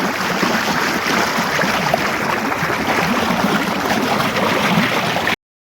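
Steady, close rush of irrigation water flowing into a rice paddy on a Punjabi farm, a constant gurgling churn that holds level before cutting off abruptly near the end.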